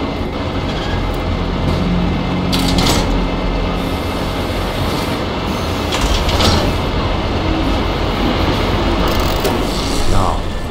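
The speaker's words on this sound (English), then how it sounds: "I think I can move these trains around so that we can pass through." Trains in the Shadow Warrior video game rumbling and clanking as they are shifted along rails, a loud continuous mechanical drone with metallic knocks, with some talk over it.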